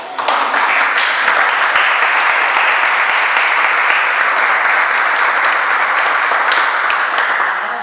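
Steady, dense applause from an audience at a medical cannabis talk, loud and continuous for the whole stretch with no break and no voices on top.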